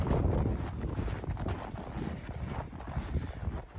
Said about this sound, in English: if you didn't believe me, it's windy